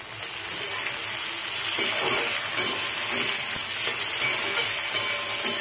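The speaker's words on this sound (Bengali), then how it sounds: "পেঁয়াজটা প্রায় ভাজা হয়ে গেছে, এর মধ্যে আমি টমেটোগুলো দিয়ে দেবো।" Chopped onions and tomatoes fry in a pan of hot oil, giving a steady loud sizzle with occasional stirring scrapes and crackles throughout.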